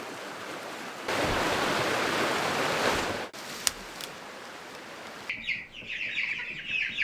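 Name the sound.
chickens clucking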